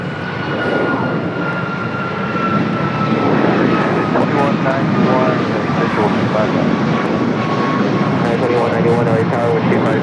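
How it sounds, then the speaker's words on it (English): Airbus A380 taking off from LAX runway 25, a loud sustained roar of jet engines rising and holding, with someone talking over it. "And that's flight 216 heading back to Dubai in that A380 Super."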